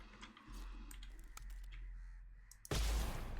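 A crow caws a few times from a distance in the video game Blood West, set against a low ambient hum, and a sudden loud rumble comes in at the end.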